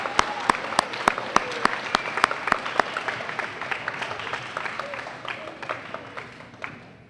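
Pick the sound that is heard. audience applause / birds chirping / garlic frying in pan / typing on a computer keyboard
audience applause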